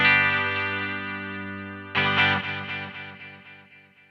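Strymon Volante guitar effect pedal in studio echo mode: a held guitar chord, then a new strum near two seconds followed by clear, evenly spaced repeats that decay gradually, wider in tone, heard alone with no talking.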